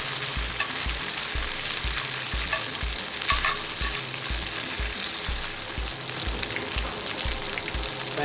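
Pork carnitas fry in a cast iron pan with a steady, dense sizzle and crackle, with regular low thumps beneath it; close and continuous, with no talk.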